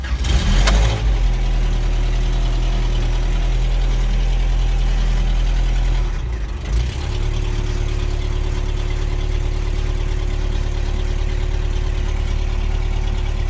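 A Toyota engine cranks and catches on a cold start, stumbles briefly, then settles into a loud, steady idle with a low droning hum.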